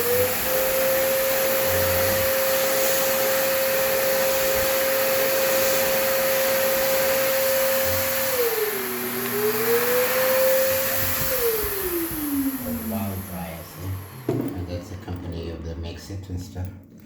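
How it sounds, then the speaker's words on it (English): A restroom hand dryer blows with a loud, steady whine and rushing air, its pitch dipping and rising once before winding down and cutting off near the end, with a voice speaking over it. "And then this is a dryer."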